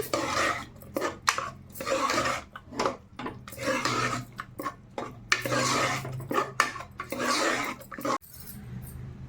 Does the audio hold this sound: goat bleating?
no